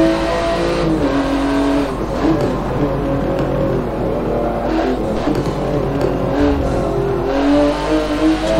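A Porsche 911 GT2 race car engine in Forza Motorsport 7 roars and revs steadily, loud and close, with continuous high-pitched whine and shifting tones throughout, no talk.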